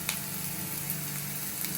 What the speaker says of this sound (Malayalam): നമ്മൾ സവോള ഇട്ടു. ഇനി അതിനൊന്ന് വഴറ്റി കൊടുത്തിട്ട്